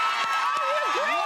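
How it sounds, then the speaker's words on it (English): A studio audience cheers and shouts wildly on a morning talk show, a dense, loud crowd roar with a voice rising and falling above it throughout the short burst. "Lisa doubling down, crowd going wild there."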